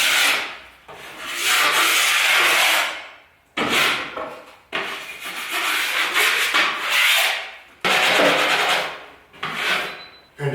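Hand sanding on a repaired, water-damaged ceiling, knocking down high spots on the patch: long abrasive rubbing strokes in bursts of a few seconds, separated by short pauses, close and fairly loud with no talking.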